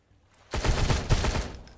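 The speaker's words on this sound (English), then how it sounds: "let's put the AK because shooting a lot more bullets faster" An AK rifle firing fast in the video game Sunkenland, a loud, close burst of rapid automatic shots lasting about a second after a brief quiet start, with no speech.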